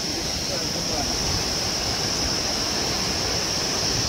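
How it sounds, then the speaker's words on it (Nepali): The Hamkhola waterfall in Nepal, on the Tilicho Lake trekking route, gives off a constant, dense rushing roar with no breaks from start to finish. "एकानी रमणीय रहेको छ यो हामखोला झरना"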